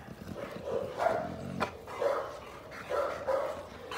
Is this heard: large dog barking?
yes